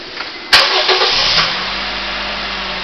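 A Honda Fit's small engine, fitted with a short ram cold air intake, cranks with a sharp click and catches, then settles into a steady, buzzy idle up close.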